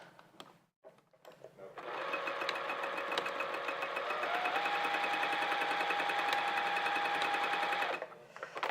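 A sewing machine runs steadily for about six seconds, stitching fabric with a continuous whirring buzz as a zigzag-capable machine works through a garment top; the motor starts, holds an even hum, then stops, with no talk.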